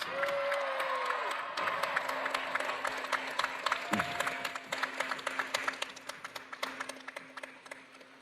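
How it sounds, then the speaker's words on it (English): The crowd at a university commencement ceremony applauds and cheers, and the clapping thins out toward the end. A few individual claps stand out, and a brief voice is heard at the start. "And I think that deserves another round of applause."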